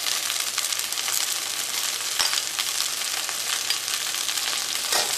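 Onion and green chilli sizzle steadily in a hot pan for okra masala, a dense, even crackle with a few sharper pops, heard alone without talk.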